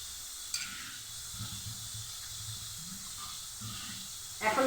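Bitter gourd fries in a spice mix in a pan, a faint steady sizzling hiss running throughout with a louder burst at the end, while someone talks over it.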